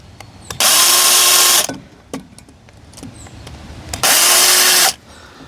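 A power drill runs in two loud, steady bursts of about a second each, marking bolt holes in a wall for mounting a hose reel, with quiet clicks and handling noises between them.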